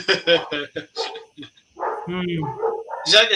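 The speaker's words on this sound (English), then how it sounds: "the dogs barking from the firehouse" Several dogs bark and yip in quick bursts from a firehouse down the street, fairly close, with a person's voice mixed in among the barks.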